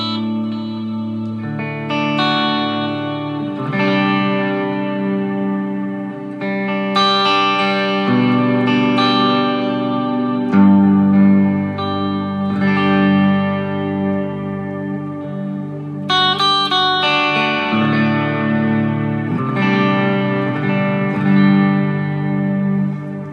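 An ambient electric guitar rings out with heavy reverb and no delay, sustained chords layered into long washing trails that swell and blend with each change, with no voices.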